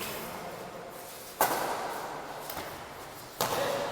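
Two sharp shuttlecock hits in a hard badminton match rally ring out about two seconds apart. Each crisp crack stands over a faint room background at moderate volume.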